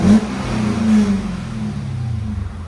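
A Cadillac CTS-V's 6.2L V8 on stock exhaust revs close up, a sharp throttle blip at the start and another mid-way, each settling back into a deep, throbbing idle.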